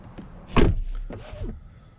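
A 2022 BMW iX door unlocks and opens: a light click, then a firm thunk and a short whirring motor sound, all close and fairly loud.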